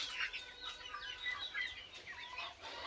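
Desi chickens in a small farm shed cluck and chirp in overlapping calls, fairly faint but continuous, with no talking over them.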